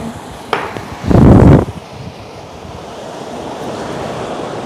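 An air cooler blows air in a steady, soft whoosh, with a brief louder gust buffeting the microphone near the start.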